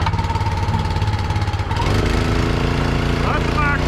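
Small Honda engine on a 1980s American wood splitter runs loud and close, its pitch climbing as the throttle opens partway through to a steady high-speed drone, with someone speaking over it.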